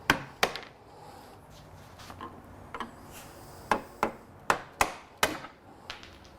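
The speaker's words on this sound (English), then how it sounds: "I use this little hook scraper to remove most of the glue" A small hook scraper rasps dried glue off a strip of bent wood in short, sharp strokes, a dozen or so irregular scrapes standing out clearly from a quiet room.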